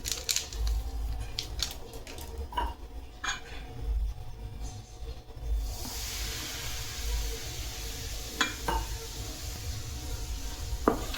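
Spoon stirring carrot and wheat-flour cake batter in a bowl after Eno is added, soft wet scraping and clinking in a steady rhythm, close and moderately loud, with no talking.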